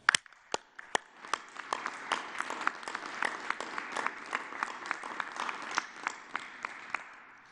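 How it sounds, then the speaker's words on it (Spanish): An audience applauds at a press conference, starting with a few sharp separate claps that quickly build into sustained, fairly close clapping from a modest crowd. "un aplauso."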